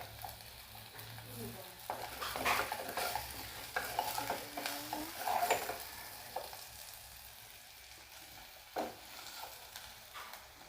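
Cumin powder fries in a pan and is stirred, giving a soft sizzle with scraping stirs in uneven bursts, fairly quiet and close.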